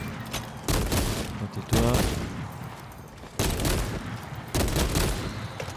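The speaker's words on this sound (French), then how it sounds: "j'adore tirer avec cette arme là." Loud bursts of gunfire from a weapon in the video game Space Marine 2, with four heavy volleys separated by short pauses, and someone speaking briefly between shots.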